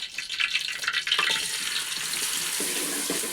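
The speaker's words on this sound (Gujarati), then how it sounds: "હવે આપણે આ પનીરને હેટી લેવા છે" Paneer frying in hot oil in a home kitchen for a Gujarati paneer curry, giving a steady broadband sizzle that runs throughout, with a few louder crackling bursts near the start.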